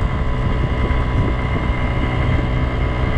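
Kymco Agility 50 scooter with a governed engine of under 2 horsepower droning steadily uphill near top speed, a loud, constant buzzing hum blended with heavy wind rush, close and continuous with no speech.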